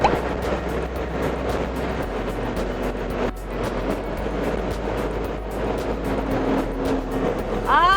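A Ferrari 296 GTS with its roof open drives fast along an Italian road, a steady engine drone mixed with heavy wind and road noise from inside the car.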